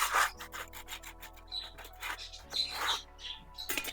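Hard droppings scraped off the floor of a starling's cage with a small scoop: quick rough rasping strokes close by, repeated in short bursts over a faint steady hum.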